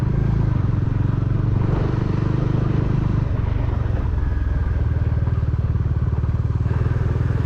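A motorcycle engine drones steadily and loudly throughout a ride on remote hill roads near Vattavada, Kerala, with a constant low rumble, a slight shift in pitch midway and no talking.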